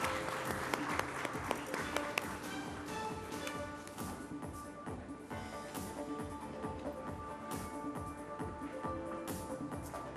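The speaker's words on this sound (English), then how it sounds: "Huge round of applause." Audience applause for a panel moderator taking the stage at a renewable energy business event, a dense steady patter of many hands clapping throughout, with background music beneath.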